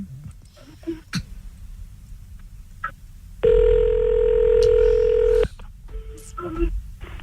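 A telephone number is dialed for a radio prank call: a few scattered keypad beeps, then a steady two-second tone, followed by more short beeps, with brief speech and studio noise around them.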